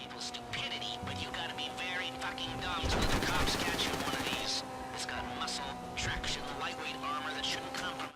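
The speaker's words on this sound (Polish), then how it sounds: "Strzelają do nas." Pursuers fire at a car in GTA Online in sustained automatic bursts and rattling volleys, loud and dense, over engine and game noise, with people talking throughout.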